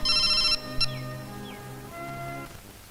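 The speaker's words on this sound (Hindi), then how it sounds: "मैं एक बार और विक्रम को मोबाइल कर देती हूँ।" A mobile phone rings during an outgoing call in a 2002 Hindi horror film: a bright electronic ring burst opens, followed by softer, sustained call tones, with no talking.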